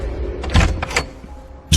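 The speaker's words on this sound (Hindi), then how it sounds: "और तकरीबन 10 सेकंड के बाद ही रिकी दरवाजा खोले सामने खड़ा था" A door is opened in a room, with a few knocks and rattles of the handle and frame followed by a louder thump at the end, close and with no voices.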